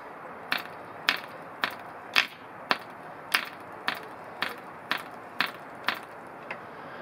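A repaired Red Fin 0.49 model diesel engine clacks sharply at a steady rhythm, about a dozen distinct clicks over a quiet whirring background, close up.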